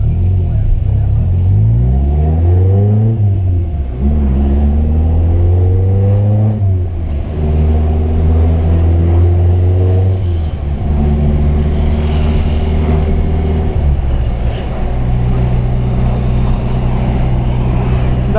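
A Renault Clio pulls away gently and loudly close by, its engine revving up in several rising sweeps as it shifts gears, then settling into a steady drone.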